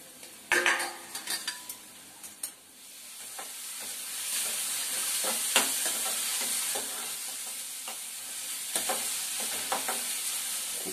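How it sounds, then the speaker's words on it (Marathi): Chopped onion frying and sizzling in a pan, with a steady hiss throughout and intermittent clinks and scrapes of a utensil stirring against the metal, close and fairly quiet. "आता कांदा की नाही चांगला आपल्याला लाल करून घ्यायचा, त्याच्यापासून 2 मिनिटं मी झाकण ठेवते म्हणजे कांदा आपला लगेच लाल होईल।"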